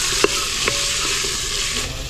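Peas and carrots sizzle in a hot pan as they are stir-fried, a steady close frying hiss broken by two sharp spatula knocks against the pan.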